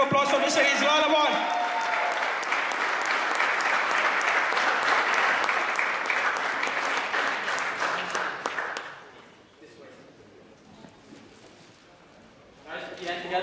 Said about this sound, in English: Now guys, big round of applause for Mr.